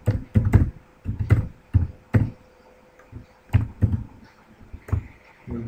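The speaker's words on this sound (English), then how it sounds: "let me type that other email address" Someone types an email address on a nearby computer keyboard, with quick bursts of clacking keystrokes separated by short pauses.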